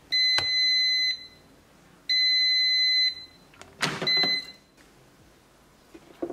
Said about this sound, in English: That's the final beep, and I'll open it.